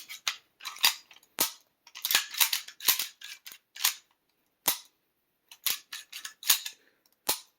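Parts of a 1943 1911A1 pistol being reassembled, the safety dropped into place: a quick run of sharp metallic clicks and snaps, close and fairly loud, in bursts with brief pauses and no talk.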